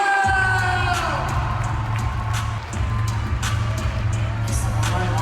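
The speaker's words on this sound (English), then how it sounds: "start clapping, Ronnie Brown!" A large conference audience at an investment festival cheers, whoops and claps loudly and steadily for a woman being introduced, with a low musical hum underneath and no clear speech.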